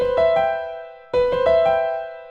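A chord in third inversion, 4-2 position, struck twice about a second apart, each time ringing with clear sustained tones that slowly fade, heard alone.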